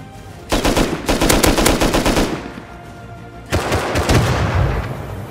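Rapid automatic gunfire in the video game Rust comes in two loud, close bursts of quick shots separated by a short lull.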